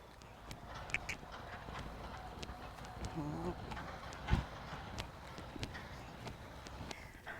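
Horse hooves during a dressage schooling walk, soft rhythmic clip-clop steps on an arena surface, faint and fairly distant amid low background noise.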